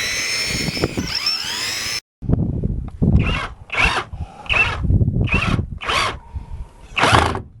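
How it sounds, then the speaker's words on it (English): A power drill with a 1/2 inch bit bores through the A-pillar of a Ford Crown Victoria, whining continuously for two seconds, then after a brief gap giving six short, close grinding bursts spaced about a second apart. "we're going to take this 1/2 inch drill bit, and then what we're going to do is drill through this hole right here"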